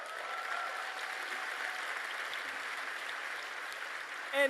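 Audience at a university speaking event applauds steadily, a broad even wash of clapping heard from within the hall, with a brief louder burst near the end.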